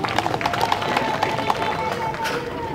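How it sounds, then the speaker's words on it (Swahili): Dense, rapid clapping from an audience at a political rally, a continuous patter of many hands with crowd noise beneath and a voice ringing through the applause. "Naomba tumpigie makofi."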